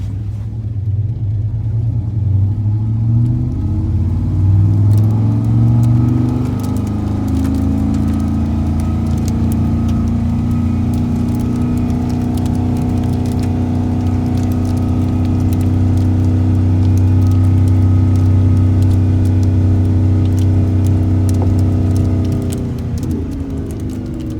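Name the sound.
1996 Dodge Ram 1500 truck driving in reverse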